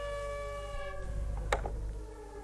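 A steady tonal siren signalling the lifting of a curfew wails alone at moderate distance, holding a sustained drone with a brief sharp clatter in the middle.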